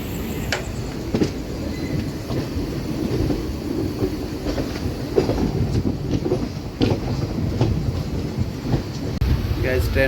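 Interior of a general-class coach on a night train from Bhadrak to Puri: continuous rumbling wheels with rhythmic clickety-clack over rail joints, occasional higher squeals, and faint murmuring passengers in the background.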